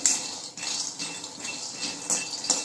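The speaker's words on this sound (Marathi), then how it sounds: "त्याच्यामध्ये आपण शेंगदाणे टाकून घेऊया आणि शेंगदाणे आता आपण एका उलथाने किंवा तुमच्याकडे जे असेल पळी उलथानं तर त्यांनी व्यवस्थित भाजून घेऊया।" Peanuts roast in a hot kadai while a spatula stirs them, giving repeated close scraping and rattling clinks of metal on metal in an uneven rhythm, with no voices.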